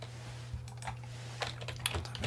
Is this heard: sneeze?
no